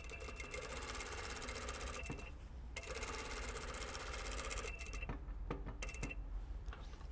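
Sewing machine stitching a shirt yoke runs in steady continuous bursts, a fast even mechanical whir with a brief pause near two seconds and choppier stop-start stitching toward the end; no talking.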